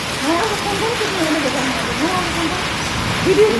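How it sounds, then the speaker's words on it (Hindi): Hail falls during a heavy downpour, a loud, dense, steady hiss of rain and pelting ice outdoors, with a voice talking faintly underneath throughout. "ओले गिर रहे हैं"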